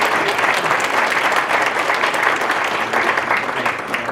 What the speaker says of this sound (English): Another round of applause for Taylor Harmon.